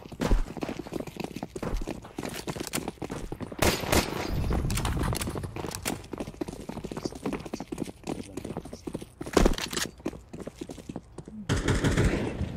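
Gunfire in Counter-Strike 2 on the Mirage map, with an AK in play: a dense run of sharp shots and clattering footsteps across the round, loud bursts standing out near the middle and end, with faint talk underneath.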